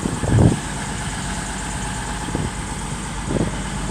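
A Class 153 diesel train arrives at Crewe station with a steady low engine rumble and a few soft thuds and swells, close by with no voices.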